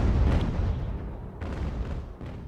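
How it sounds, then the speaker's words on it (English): Cannon fire from French warships booms in a naval battle in Ultimate Admiral: Age of Sail, with heavy, rumbling shots landing in close succession, three loud blasts spread over a dense, continuous battle din. "Those French guns trading extremely well."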